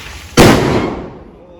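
A single firecracker goes off during the Vishu festival with one sharp, loud bang close by, followed by a rumbling decay that fades over about a second.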